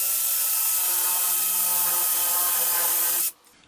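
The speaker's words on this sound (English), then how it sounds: "I'm going to use something called a Forstner bit" A drill runs steadily with a Forstner bit boring a hole, giving a loud, continuous whirring grind for about three seconds before it cuts off abruptly and leaves near silence.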